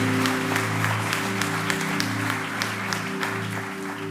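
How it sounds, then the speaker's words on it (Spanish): A church congregation claps steadily after a call from the pastor, a dense, continuous wash of applause from many hands, moderately near, over a low sustained musical drone. "Dele un fuerte aplauso al Señor si usted lo cree."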